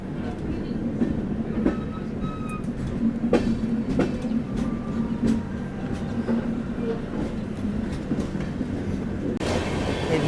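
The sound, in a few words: Hamsafar Express train running on the rails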